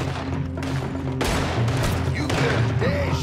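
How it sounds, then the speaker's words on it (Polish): Gunfire in the video game Red Dead Redemption 2: a couple of loud, sharp shots ring out over a low rumbling backdrop, each with a booming tail. "Ja mu strzelę w łeb."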